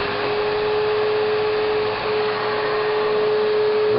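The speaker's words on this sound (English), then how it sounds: "everybody wants to see the vacuum cleaner" A vacuum cleaner runs with a steady, even whir and a constant hum throughout, close and unbroken.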